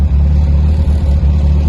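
Inside a turbocharged 3TC-engined Toyota TE27 cruising in Maui heat, the engine gives a loud, low, steady drone with small fluctuations, heard close up and without talk.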